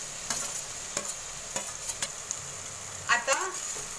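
Potatoes and onions fry in a pan while being stirred for batata bhaji, with a continuous sizzle and a series of sharp spoon scrapes and clinks against the pan, two louder scrapes near the end.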